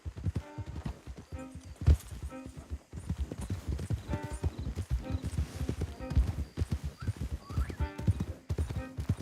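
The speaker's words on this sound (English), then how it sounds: "Don't want the horses clopping around outside the window." Horses' hooves clopping in a video game, a dense steady rhythm of close, clear hoofbeats on hard ground with faint tack jingling, running through the whole stretch without pause.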